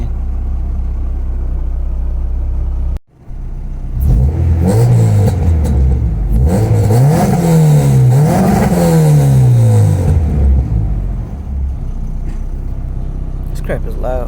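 A Honda H2B engine in a car revs loudly several times after a brief cutout, the pitch rising and falling in repeated swells, close and dominant, with a voice speaking in parts.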